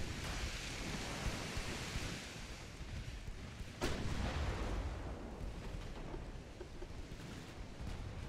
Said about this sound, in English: Let's see what armor-piercing shells do from here.